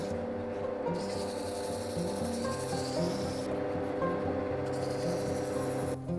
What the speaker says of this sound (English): When sanding resin, try and keep your sandpaper cool by dipping it in water.